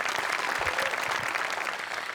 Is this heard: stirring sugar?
no